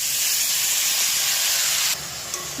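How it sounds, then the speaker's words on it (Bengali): Bottle gourd sizzles in hot ghee in a wok, a loud, continuous frying hiss heard alone that eases slightly near the end. "প্রথমে আমি কড়াতে দিয়ে দিয়েছি ঘি, দিয়ে দেব লাউটা।"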